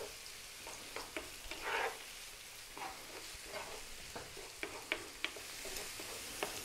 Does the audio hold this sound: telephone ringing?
no